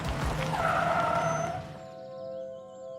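A car brakes hard with a loud tire squeal and skid lasting about a second and a half, then the engine settles into a low idle hum once the car stops.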